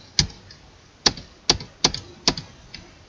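Keys tapped on a computer keyboard while CSS code is edited, five crisp separate clicks spaced unevenly across a few seconds, close and clear with no talking.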